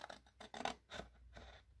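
Paper is snipped with scissors while a gift box for After Eight mints or tea bags is being made: several short, close cuts in quick, uneven succession, quiet and with no talk.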